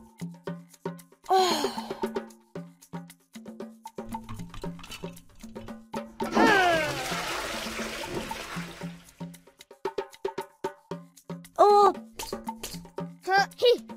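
Cartoon toilet flush rushing and gurgling for a couple of seconds in a children's potty-training game, set among chirpy sound effects, giggles and a narrator's voice.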